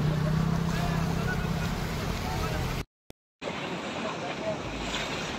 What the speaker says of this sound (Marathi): पहा नदीचं पाणी किती मोठा प्रवाह आहे.